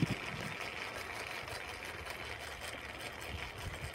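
Bike motor turning a homemade wind turbine's drive shaft through an 18-tooth to 28-tooth gear pair, making a steady, moderately quiet mechanical hum and whir with a fine rapid rattle, running evenly throughout.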